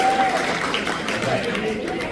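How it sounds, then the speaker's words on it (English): Scattered applause from a comedy club audience at Kellar's in Erie, Pennsylvania, a steady wash of clapping and crowd murmur that holds at an even level for about two seconds. "If you've been there, give me a round of applause."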